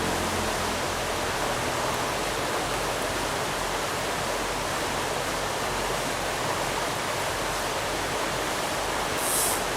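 A fast river current of a wild urban trout stream rushes in a dense, steady broadband roar, loud and unbroken with no talk.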